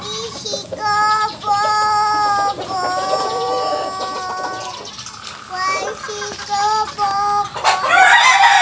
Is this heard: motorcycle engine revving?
no